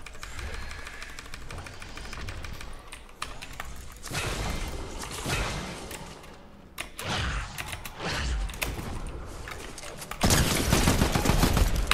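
Gunfire in the Fortnite video game, dense bursts of shots and game effects packed over continuous busy game sound, loud throughout and swelling into a heavy blast near the end.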